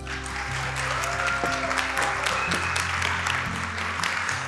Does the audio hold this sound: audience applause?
yes